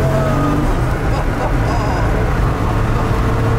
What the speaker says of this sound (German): Ich kann nochmal Gas geben, spaßeshalber.